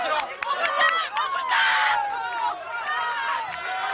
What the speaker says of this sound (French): dans la plus grande bousculade, son premier bain de foule de chef de l'État.